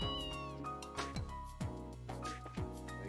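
A cat meows repeatedly in the Trails in the Sky video game, several drawn-out, falling cries close and clear over soft game music.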